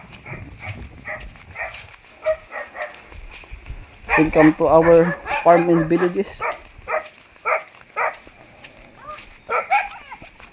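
Dogs bark in short bursts nearby, a run of rapid barks in the middle, while a person speaks and a steady high tone hums in the background.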